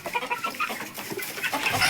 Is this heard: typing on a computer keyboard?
no